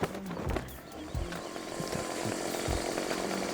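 A chainsaw runs in Farming Simulator 17 during a woodcutting session, giving a steady, close, buzzing drone with rough mechanical texture and no talking over it.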